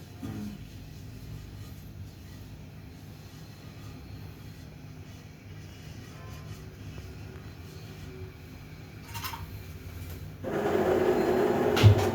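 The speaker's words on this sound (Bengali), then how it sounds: "ওয়াটার মেকার চলছে, আমি বন্ধ করে দিয়েছি।" A water maker machine runs with a steady low mechanical hum and drone at moderate distance, growing louder and denser near the end.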